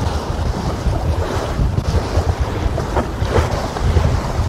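Wind rushes steadily over a J24 sailboat racing in a regatta, with a loud, gusty roar mixed with water wash against the hull and no talk.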